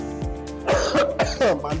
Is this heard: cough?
yes